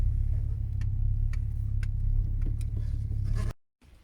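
A 1990s VW Golf III VR6 Syncro idles with a steady low rumble and faint ticking on top. The engine sound cuts off abruptly near the end and is followed by a brief silence.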